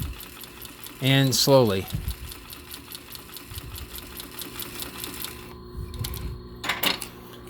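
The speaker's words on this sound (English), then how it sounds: "we got to sew it pretty straight" Sewing machine stitching the edge of a leather bag, a brief loud whirring run of rapid stitches near the start, then faint mechanical ticking as a person talks quietly.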